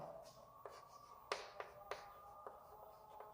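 Chalk or marker tapping and scratching on a board while writing out a sphere equation for a maths lesson, a series of sharp, close taps and short strokes spread over a few seconds with no talk.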